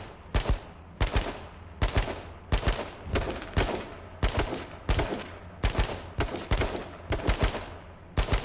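Gunfire rings out in a video game shootout as loud, sharp bursts arrive in a regular rhythm, roughly one every second or so, each crack cut short and close.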